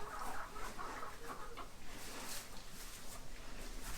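Chickens clucking softly and continuously nearby, with scattered short calls over a noisy outdoor background.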